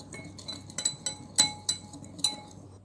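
A spoon clinks against a bowl while vinegar, olive oil and yogurt are mixed into a marinade for homemade shawarma, a series of sharp ringing taps spaced irregularly in a quiet kitchen.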